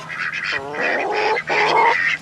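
Ducks beside their backyard pool give loud, close, raspy quacks, several overlapping calls in quick bursts with a brief pause between them.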